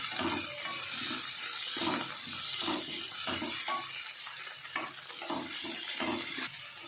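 Onions and tomatoes fry in a pan for a Mangalore-style chutney served with appam, giving a wet, bubbling sizzle broken by repeated stirring strokes at an even rhythm, close up and without speech.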